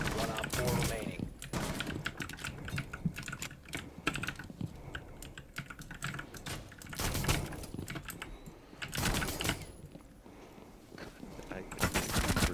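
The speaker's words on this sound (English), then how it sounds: "I keep breathing and typing." Rapid clattering on a computer keyboard runs throughout, loud and close, mixed with bursts of gunfire from a tactical shooter game and players talking over it.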